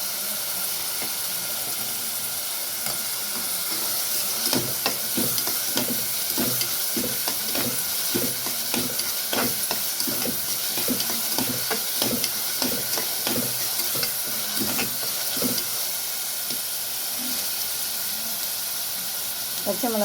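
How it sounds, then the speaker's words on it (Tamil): Onions sizzle steadily in hot oil in a pan for a mutton head gravy, with a continuous hiss dotted with small crackles and pops at close range, and no talking. "வெங்காயம் நல்லா வதங்கட்டும்."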